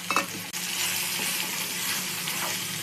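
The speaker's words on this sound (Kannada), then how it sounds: "ಒಂದು ಈರುಳ್ಳಿ ಕಟ್ ಮಾಡಿ ಇಟ್ಕೊಂಡಿದ್ದೆ ಉದ್ದುದ್ದಕ್ಕೆ ಹಾಕುತ್ತಾ ಇದ್ದೀನಿ" Sliced onion sizzles in hot oil in a pan with cumin and ginger garlic paste, a steady close hiss with a brief stirring clatter at the start.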